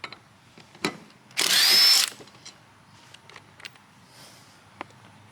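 An impact wrench gives one loud, buzzing burst of about half a second while loosening the blade bolt on an Ego lawn mower, with soft handling clicks before and after.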